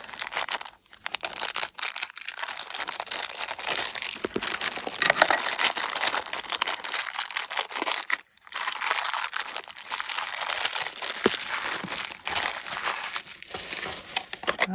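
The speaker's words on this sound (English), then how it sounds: "let me just cut open all these bags" Plastic mystery bags are cut open and handled, giving continuous close crinkling and crackling with brief pauses between bursts of rustle.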